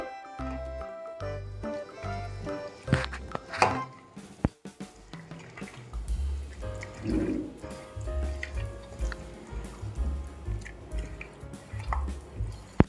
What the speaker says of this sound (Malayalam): ഞാൻ ലേശം വെള്ളം ഒഴിക്കുന്നുണ്ട് നമ്മൾ കൈകൊണ്ടാണ് മിക്സ് ചെയ്യുന്നത്